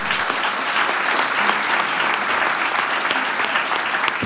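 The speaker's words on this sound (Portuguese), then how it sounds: "Gente, não merece salva de palmas, não?" An audience at a company talk gives a round of applause, a dense, continuous burst of clapping with sharper individual claps standing out, steady in level for the whole stretch.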